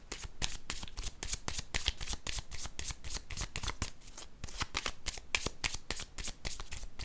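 Tarot cards being shuffled, a steady run of rapid riffling flutters close up, with no talking.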